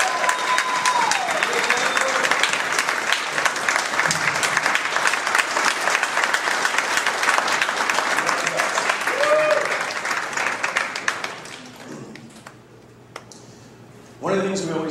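A long round of audience applause at a company event. The clapping is loud and sustained with a few voices and whoops mixed in, then tapers off near the end into near quiet before a voice resumes.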